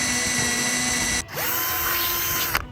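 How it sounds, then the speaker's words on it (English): A power drill whines steadily while boring holes in a steel step bumper, close and loud, briefly stopping and spinning back up with a rising pitch before cutting off near the end. "I'm just gonna drill the holes."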